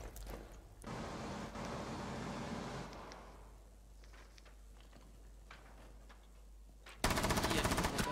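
Rapid automatic gunfire from the video game Rainbow Six Siege sounds as a long dense burst, then a quieter stretch of scattered shots, then a loud sustained volley at the end.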